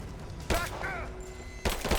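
Gunfire from the video game Rise of the Tomb Raider: two sharp bursts of shots a little over a second apart, with a voice calling out between them.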